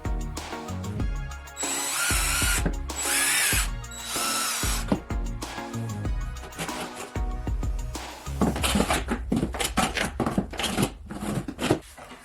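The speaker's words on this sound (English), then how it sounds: "the screw will easily enter the wood without resistance or spinning in place" Power drill driving a wax-lubricated screw into wood, in several loud whirring bursts with pauses between, ending in a run of quick ratcheting clicks, no voices.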